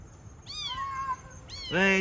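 A house cat meows twice, the first a drawn-out falling cry and the second a louder, brighter call at the end, close and clear over faint background noise.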